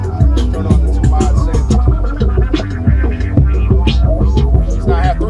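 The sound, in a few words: Rane Sixty Eight mixer mod effect throbbing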